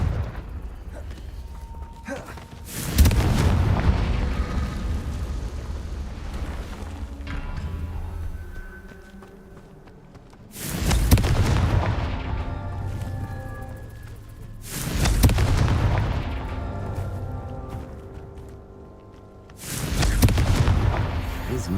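Four booming fiery blasts from the Confringo spell in the Hogwarts Legacy video game go off at intervals, each with a long rumbling tail that fades before the next.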